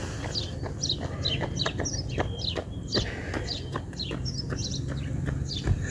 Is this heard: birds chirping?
yes